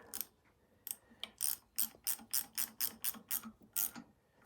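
A 10mm spanner tightens a bolt on an MT-82 gearbox during a rebuild, giving a steady run of about a dozen crisp, close ratcheting clicks in a regular rhythm after a few scattered ticks, with no talking.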